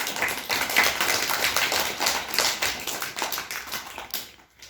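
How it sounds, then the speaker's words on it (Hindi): A class of children claps together in a Hindi lesson, rapid uneven claps in a steady burst lasting several seconds, fairly close, then fading out abruptly. "ताली बजाओ भाई"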